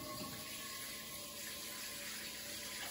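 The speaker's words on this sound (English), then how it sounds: "then put a little water in there" Water poured into an unseasoned wok to loosen stuck food, a steady faint splashing and trickling that runs without a break and with no talk.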